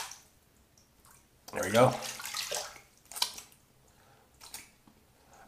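Running water rinses shaving soap off, a short splashing, squishy burst followed by a few softer splashes and drips, close and fairly quiet, with a brief spoken remark over it.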